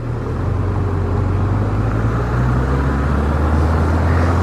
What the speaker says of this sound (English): New Maserati Quattroporte. Beautiful car.